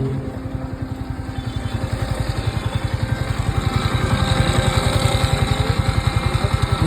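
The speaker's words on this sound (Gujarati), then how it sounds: "ગાડીમાંથી અવાજ ખાલી સાંભળો" A Yamaha motorcycle with a suspected engine fault idles in first gear with the clutch held, its engine running in a steady, rapid low thump that stays close and even, rising slightly in loudness partway through.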